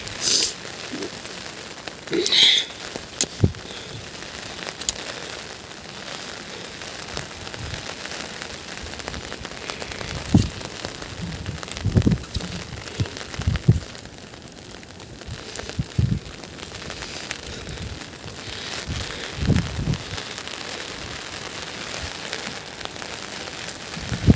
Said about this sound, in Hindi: बारिश ने इस बार हमें धोखा दे रखा है भाई